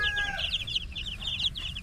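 Ulikba chickens cluck softly in a quick run of chirpy, repeated notes, faint and close, over low background hum, with no voices.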